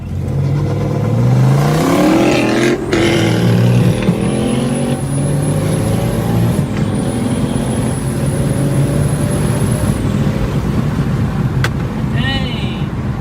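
A 2023 BMW M3 under hard acceleration, the engine loud and close as it climbs steeply through the revs, with a shift and a long high whine, and a voice briefly heard inside the car.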